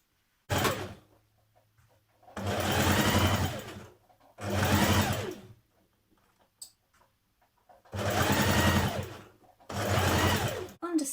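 Sewing machine stitching a dress neck facing into place, running in four separate bursts of a few seconds each with short pauses between them, close and fairly loud, with no talking.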